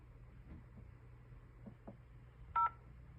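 A single short telephone keypad DTMF tone beeps once during entry of a phone number, sharp and brief against a faint low line hum.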